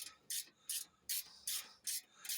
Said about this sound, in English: I've got this long ratchet wrench, which comes in handy on these the